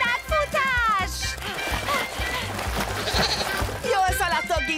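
Cartoon goats bleat repeatedly in a bouncy, wavering rhythm as they run, with music and busy scoring underneath.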